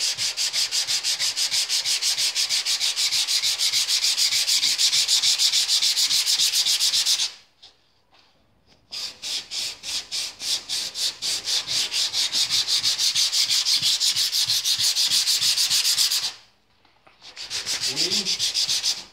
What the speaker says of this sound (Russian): И давайте ушкурим, работаем.